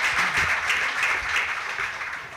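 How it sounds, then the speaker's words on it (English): Brief burst of audience applause for a speaker at a national cannabis symposium, steady clapping from a crowd at moderate volume that tapers slightly toward the end. "give him a round of applause, ladies and gentlemen"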